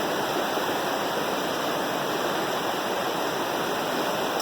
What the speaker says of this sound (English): enjoying the constant sounds of the creek right by my room